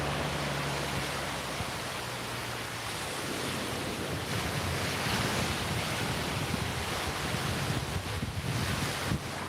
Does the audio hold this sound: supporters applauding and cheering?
no